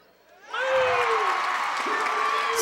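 The student cheering section at a girls' high school basketball state playoff game erupts from near quiet into loud, sustained cheering and shouting, with whoops over a roaring crowd that holds to the end.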